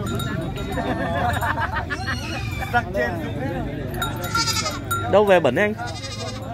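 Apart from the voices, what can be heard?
goats bleating at a livestock market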